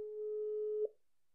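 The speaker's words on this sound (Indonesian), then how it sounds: "langsung aja kita telepon orangnya" A single steady telephone tone sounds while a call is being placed to a podcast guest, holding level for under a second before cutting off, faint and alone.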